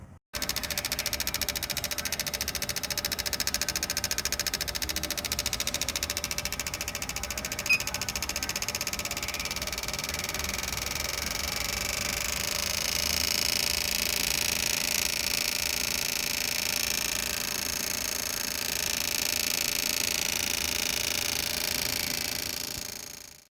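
A carbureted car engine runs steadily on a dyno, a continuous loud mechanical drone with a rapid buzzing texture that holds at an even level throughout, with no talking.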